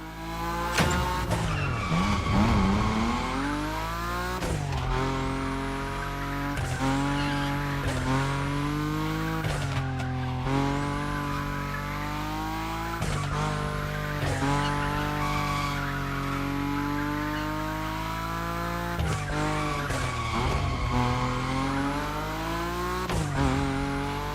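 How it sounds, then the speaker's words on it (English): A powerful Nissan Nismo in The Crew Motorfest slides at high speed, its tires squealing in long, wavering skids over a steady roaring engine, loud and close with no talking. "Your Nismo is powerful enough to slide along on its own when you're at high speed"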